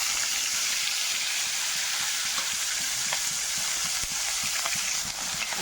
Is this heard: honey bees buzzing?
no